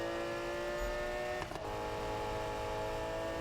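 A McLaren F1 engine driving at high speed in Need for Speed (2015), a loud steady whine with layered harmonic tones and a brief dip partway through, with no talking.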